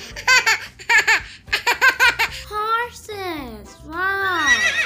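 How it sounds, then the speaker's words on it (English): A horse neighs and whinnies in a rising, wavering cry after several short bursts of cheerful, laugh-like vocal sounds, all close and clear over a soft, light rhythmic backing. "H for horse. H for horse."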